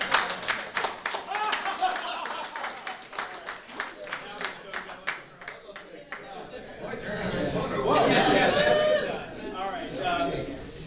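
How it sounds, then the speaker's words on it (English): An audience at a panel discussion claps in scattered, rhythmic bursts, then breaks into a swell of laughter and chatter toward the end, fairly near and moderately loud. "let's all clap and then laugh"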